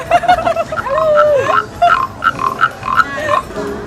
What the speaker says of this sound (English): Do the frog like Yeah, the frog, the thing with the stick.